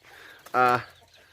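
A fighting rooster on a farm in Thailand gives one short, loud, harmonic crow-like call, close by against faint background sound.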